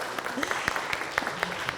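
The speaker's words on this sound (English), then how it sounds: "Give applause" Applause from a crowd, a steady spatter of clapping with a few sharper claps standing out, moderately loud and fairly close.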